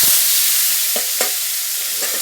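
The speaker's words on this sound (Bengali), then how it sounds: "ফোড়ন ভাজা হয়ে গেছে, গ্রেট করা পেঁয়াজটা দিয়ে দিচ্ছি" Grated onion hits hot oil already seasoned with cardamom, cinnamon, dried chilli and bay leaf, giving a steady close sizzle with a few soft stirring scrapes.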